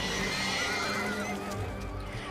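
A horse gives a long, wavering neigh, loud and close, as a sound effect in a spoken horror tale. Faint hoof clip-clop sits underneath, and no one talks over it.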